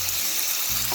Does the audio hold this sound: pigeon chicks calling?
no